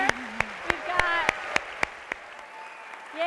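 Audience members clap for the Piedmont High School drama actors with sharp, scattered claps about every third of a second, under a speaking voice, then fade.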